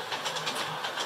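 A model train runs along track mounted high on a bedroom wall near the ceiling, giving a steady, moderately loud clickety-clack rumble that carries on without pause and with no voices over it.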